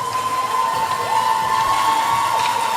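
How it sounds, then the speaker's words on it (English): Spectators cheer at a youth hockey game in a rink, a steady roar of crowd noise with shouts and whistles running loud throughout. "you can hear the crowd cheering"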